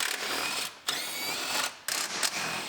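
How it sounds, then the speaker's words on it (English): A power tool removes the battery tray bolts on a 2019 GMC Sierra Denali 2500HD Duramax, giving a whirring, buzzing run that stops briefly twice and restarts, close and fairly loud. "Then we can start unbolting our battery tray."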